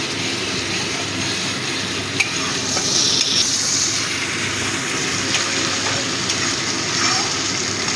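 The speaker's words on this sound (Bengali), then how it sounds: "এই আদা রসুন বাটাটা দিয়েও ভালো মতো কষিয়ে নেব।" Ginger garlic paste sautés in hot oil for a katla fish curry, giving a loud, continuous sizzle with a few brief scrapes and clinks of stirring.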